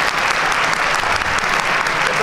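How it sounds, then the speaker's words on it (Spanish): An audience applauds storyteller Carlos Canales as he leaves the stage, dense continuous clapping that stays loud and even throughout. "Un aplauso para Carlos Canales"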